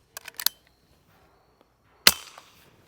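A few small metallic clicks, then a single sharp but quiet crack from a .22 rifle with a Banish 22K V2 suppressor firing CCI standard velocity ammunition, with a short fading tail.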